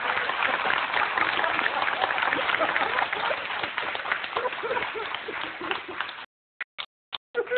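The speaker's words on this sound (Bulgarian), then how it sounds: "Моля, аплодисменти за господин Рафнев." Audience applause at a stage show, a dense steady wash of many hands clapping that fades after about six seconds, followed by a few short isolated bursts and gaps.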